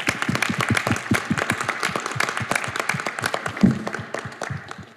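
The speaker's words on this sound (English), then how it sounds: "Let's give them a round of applause" An audience at an engineering lecture and panel event applauds, producing a dense burst of many hands clapping that stays fairly loud throughout and tapers slightly toward the end.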